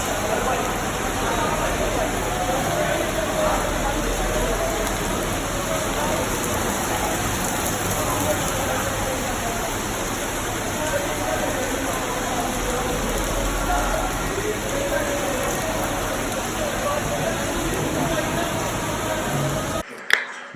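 Hail comes down in Athens, a dense steady patter and hiss on surfaces that runs unbroken for the whole stretch, fairly loud and close, ending with a sharp knock.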